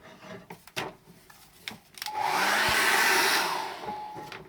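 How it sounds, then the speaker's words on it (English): A hair dryer blows onto an acrylic painting of a snowman: a few light taps and knocks come first, then the dryer starts and runs as a loud, steady, close whoosh until the end. "I'm going to dry that off with a hairdryer"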